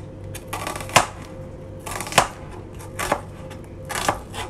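A knife chops through onion on a cutting board in four crisp, evenly spaced strokes, quiet and close with light scraping between cuts and no one talking.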